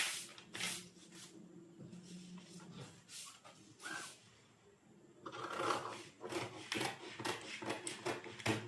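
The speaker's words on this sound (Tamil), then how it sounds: "நெக்ஸ்ட் வந்து என்னோட ஆம்ஹோல் சைடு மேலேருந்து கட் பண்ணுறேன்" Scissors cut princess-cut blouse fabric from the armhole side, giving soft rasping snips and scrapes in irregular bursts, close and quiet, with a busier stretch of cutting toward the end.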